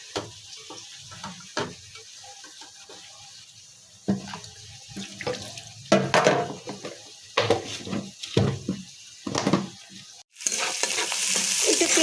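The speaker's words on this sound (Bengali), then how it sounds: "আর এদিকে কিন্তু আমি চুলায় তেল দিয়ে পেঁয়াজটা বসিয়ে দিয়েছি।" Onions frying in oil in a pan on a home kitchen stove, with steady sizzling broken by stirring scrapes and clatters, ending in a louder burst of sizzle, no talking.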